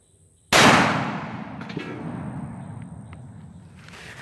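A single loud, close .45 Long Colt reload fired from a Taurus Raging Judge revolver at an outdoor steel plate, a sharp blast with a faint metallic ring decaying over several seconds.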